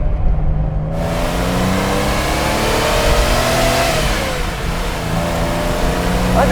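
Ford Capri Mk I 3000 GT XLR engine pulling hard on the move, rising revs climbing steadily then dropping back as it shifts, loud and close with no talk.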